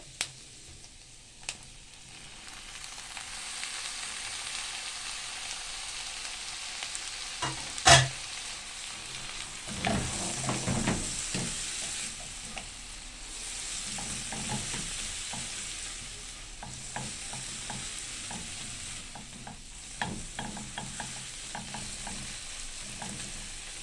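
Tomatoes and carrots sizzle and are stirred together with onions in a hot pan while cooking a crab dish, a steady frying hiss broken by scraping stirs and occasional sharp clicks, close and without talk.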